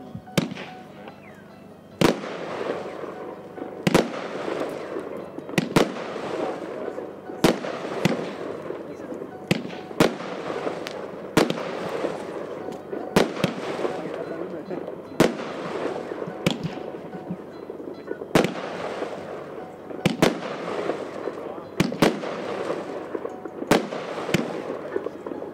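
Golden Scorpion fireworks battery with 16 shots of 30 mm calibre fires sharp launch bangs at a steady pace, each shot followed by a crackling burst, heard at moderate distance over faint background chatter.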